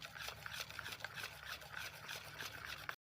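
Gram flour batter for Gujarati patra being stirred by hand, a steady close rubbing, scraping rhythm of spoon against bowl, quiet and without talk.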